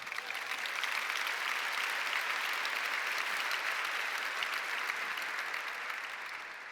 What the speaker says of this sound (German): It's funny that they clap because I wasn't clapping.